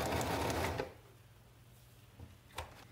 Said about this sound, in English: I'm going to sew the seam all the way up to the edge